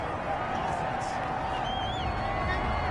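Stadium crowd noise in an American football video game, Bills at Jets, with the home crowd roaring loudly to disrupt the offensive line; a dense, sustained roar with faint whistling on top.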